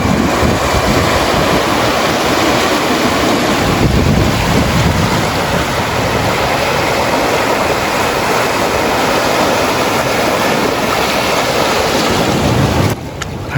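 Strong afternoon waves at a lagoon beach at a resort in Bani, Pangasinan: a loud, continuous roar of surf heavily buffeted by wind noise on the microphone, with no talking.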